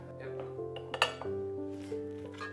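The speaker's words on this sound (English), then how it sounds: "Just spooning this into a bowl" Metal spoon scraping and clinking against a pot while cooked rice is spooned into a bowl, a few close clinks and taps over a steady background hum.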